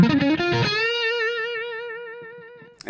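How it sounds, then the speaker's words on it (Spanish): An electric guitar with a little distortion plays a short strummed chord and then one sustained note that rings out clearly and fades slowly, alone and close. "Y poner poquita distorsión"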